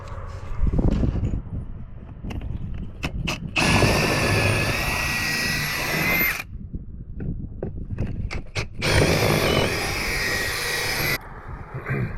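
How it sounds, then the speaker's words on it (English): A drill drives a quarter-inch bit about twelve inches long up through wood from outside to inside, in two loud sustained whining bursts separated by quieter handling clunks and taps. "here I'm just running this quarter inch drill bit that's about 12 inches long, running it up through from outside in"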